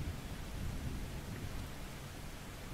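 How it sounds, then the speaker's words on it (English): Thunderstorm ambience with steady heavy rain and low rolling thunder, a constant dense wash of noise without pauses, no voices over it. "As you can hear, thunderstorm."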